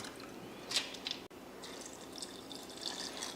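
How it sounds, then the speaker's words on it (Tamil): Water poured into dosa batter in a grinder jar during home cooking, a soft trickling pour with brief splashy drips, close and fairly quiet, with no voices. "தண்ணி ஊற்றிட்டு"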